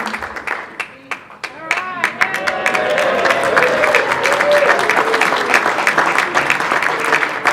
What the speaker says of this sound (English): let's have a full round of applause for Christy.